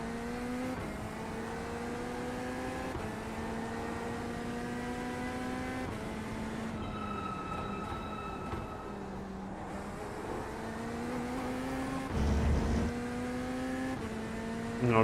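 Corvette GT3 race car engine heard from the cockpit in a racing game at Sebring, a steady droning note that climbs through the revs and drops with each gearshift, repeating over and over.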